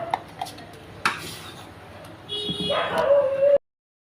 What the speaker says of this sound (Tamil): பப்பி வேறு எப்படி கத்துறாங்க.